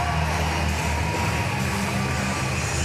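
Arena crowd at a Paralympic powerlifting competition yelling and cheering to rally a Jordanian lifter, a dense sustained roar of many voices without a break.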